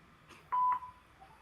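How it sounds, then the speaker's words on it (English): A single short electronic voicemail recording tone on a phone line, a brief clear beep preceded by faint clicks, quiet and heard alone. "At the tone, please record your message."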